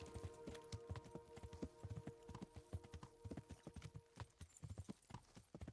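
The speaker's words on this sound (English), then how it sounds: "You're a great horse, Pebbles." Horse hooves clip-clop steadily in a video game, a close, brisk run of hoofbeats that carries on throughout, with a faint whinny from the horse.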